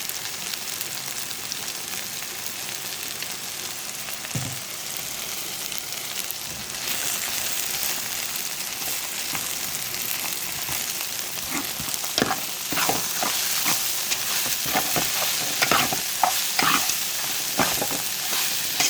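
Okra fries in oil with a continuous crackling sizzle, quieter at first and growing busier, punctuated by sharp scraping and clacking as a spatula stirs the pieces around the pan.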